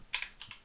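A few quick keystrokes on a computer keyboard while writing C# code, two or three close, light clicks in a quiet room.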